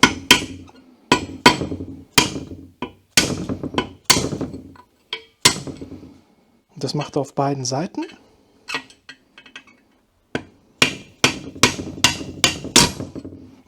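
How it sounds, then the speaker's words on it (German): Small hammer tapping a pin punch to drive the brake caliper retaining pin out of a BMW M2 Competition front axle, a series of sharp metallic strikes in quick bursts, close and loud, with someone talking briefly between the blows. "einen kleinen Hammer und dann setzt ihr da eben entsprechend an und treibt den Splint nach hinten raus"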